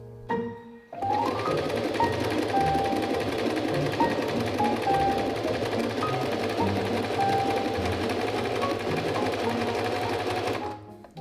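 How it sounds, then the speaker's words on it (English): A sewing machine stitching a duvet cover runs continuously at a steady rapid rhythm for about ten seconds, close by, then stops. "borrow a sewing machine, and adjust the width of the duvet cover and pillowcases myself"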